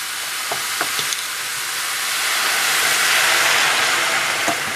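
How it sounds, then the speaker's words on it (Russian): White table wine hits a hot frying pan and sets off a loud, continuous sizzle that swells toward the middle, with a few faint clicks and taps above it. "И добавляю вино. Вино."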